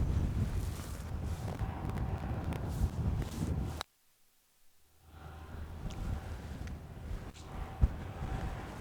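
Wind blows across an open golf course and buffets the microphone with loud, rough rumbling. It cuts out for about a second, then rushes back in gusts.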